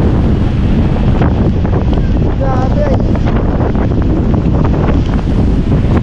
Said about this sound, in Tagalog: Grabe lakas na alon.